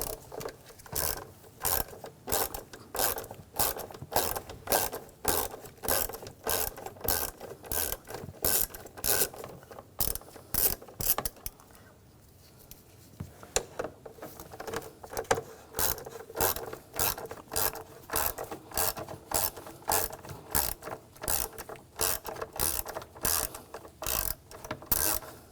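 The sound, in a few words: ratchet with 5mm hex socket removing screws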